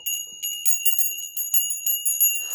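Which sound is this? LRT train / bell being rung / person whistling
bell being rung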